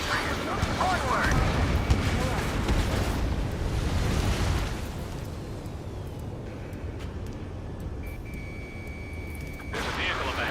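A missile explosion in a video game, a loud rumbling blast that dominates the first half and slowly fades into a lower, roaring tail, with game effects and a voice faintly present.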